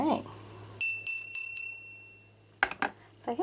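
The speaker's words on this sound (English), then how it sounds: "So here's some bells with some very unique tops." A metal bell from an auction lot, said to come from China and topped with an unusual handle, rings with a clear sustained chime that fades over about two seconds, followed by a few brief knocks and handling sounds.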